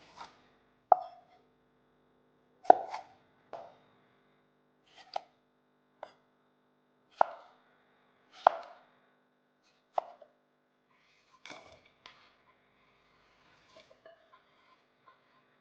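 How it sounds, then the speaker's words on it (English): A knife chops a cracked cucumber diagonally into long, rustic pieces on a cutting board, about ten crisp, separate knocks at an uneven pace, close up and with nothing else heard. "Once it's nicely cracked, cut it diagonally into long,"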